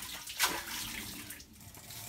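Well water pouring from a tap outdoors, a steady close rush of running water that swells briefly near the start and carries on evenly throughout.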